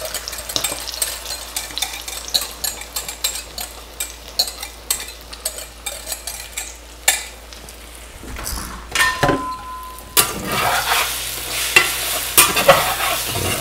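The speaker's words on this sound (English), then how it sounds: "in goes the egg and the bacon" Egg and bacon fry and are stirred in a hot pan outdoors, a busy run of close scraping and clinking utensil strokes, with the sizzle swelling louder toward the end and no talking.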